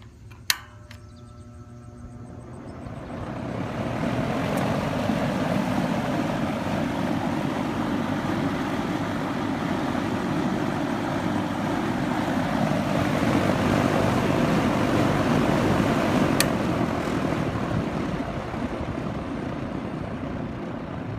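Lakewood Country Aire two-speed reversible window fan on low speed, a click at start-up followed by a steady, close whooshing hum of moving air that rises over a few seconds and then holds level.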